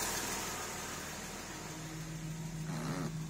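A Porsche 996 with a 3.4L engine, just refitted and started, idling at a steady low hum with a faint mechanical whir, fairly quiet and even throughout.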